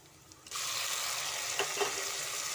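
Onions frying in a pan start with a faint hiss, then burst into a loud, steady sizzle, joined by a brief stirring scrape, with no voices.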